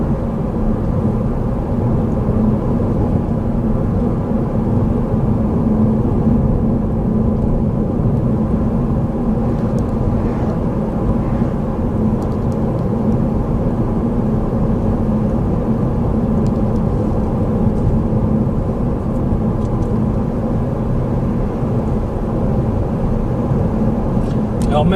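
A Toyota Auris hybrid cruising at 90 km/h on cruise control along an open road, a steady loud interior rumble and tyre-road whir that holds constant throughout, with someone talking over it.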